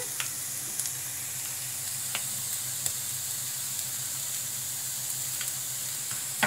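Tomato hits a pan of frying onion and chilli with a steady, close sizzle that runs throughout, broken by a few sharp utensil ticks and scrapes.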